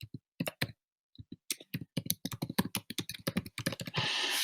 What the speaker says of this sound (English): I'll just type that in.